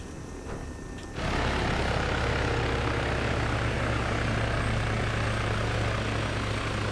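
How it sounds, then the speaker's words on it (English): A Little Bird helicopter in the game Arma 3 goes from a quiet, thin whine into a loud, steady rotor and turbine drone that holds close and constant to the end, with no voices. "This is the helicopter that I normally fly."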